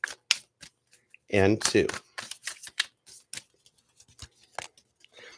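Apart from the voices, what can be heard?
shuffling a tarot card deck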